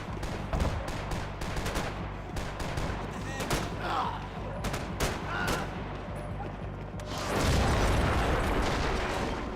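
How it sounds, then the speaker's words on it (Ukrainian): Gunfire and a large explosion from the video game Max Payne 3: rapid bursts of shots and impacts crackle on, then a loud blast swells in the final seconds, with faint game voices underneath. "Ух ти що, який вибух."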